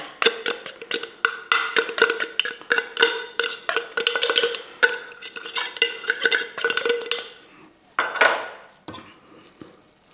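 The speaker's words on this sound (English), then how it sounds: "We're just going to break it up with a fork and mix it in." A metal fork scrapes and clinks against a bowl or pan, breaking up drained tinned tuna and mixing it into buttered pasta in a quick, steady rhythm of close, bright taps that stop briefly near the end; no talking.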